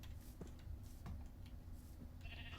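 Pink sheep in a video game bleating faintly a couple of times over a steady low background hum, with a soft ticking sound near the end.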